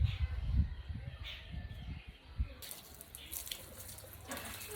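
Freshly picked plants, roots and all, are rinsed under a running tap, giving a faint, steady trickle and splash of water with soft irregular clatters near the start.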